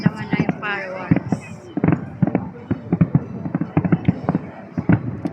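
New Year fireworks for 2026 burst in rapid succession, a loud, dense barrage of sharp cracks and pops fired off close by, with a few whistling rockets mixed into the crackle.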